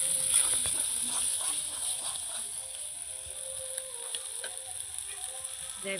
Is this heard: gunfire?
no